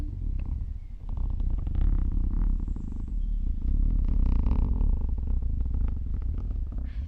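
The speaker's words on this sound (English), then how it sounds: "It does sound like a cat purring," A steady, low, rumbling purr-like buzz with fine crackly texture runs continuously and close, with no talking.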